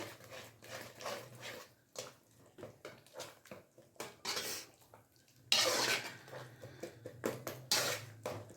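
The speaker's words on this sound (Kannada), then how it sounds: "ಈಗ ಮಿಕ್ಸ್ ಮಾಡ್ಕೊಂಬಿಡೋಣ ಈ ರೀತಿ" A spoon stirs chili powder through softened tomato and onion gojju in a metal pan, giving repeated scraping clinks and knocks in an irregular rhythm, close and fairly quiet with no talking.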